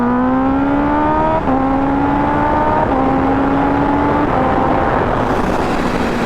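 A modified motorcycle accelerating through the gears, with a loud, close engine whine that rises in pitch, drops at each of four quick upshifts, and then climbs again.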